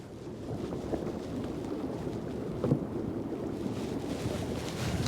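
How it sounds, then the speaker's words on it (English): A Hallberg-Rassy 69 sailing yacht beating upwind: a continuous rush of wind and water around the hull, with buffeting wind noise on the microphone and a few soft knocks, and no talking. "So a little bit of upwind sailing."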